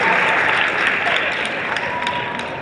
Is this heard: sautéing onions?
no